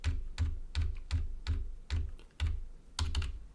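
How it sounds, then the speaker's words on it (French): Arrow keys on a computer keyboard are tapped about eight times at a steady, unhurried pace, each press a crisp close click, with a quick double tap at the end. "vous pouvez avec les flèches du clavier faire défiler les polices"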